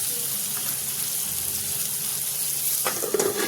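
Chopped tomato and turmeric powder hit a pan of fried onion, raising a steady close sizzle with a brief clatter and louder crackle near the end.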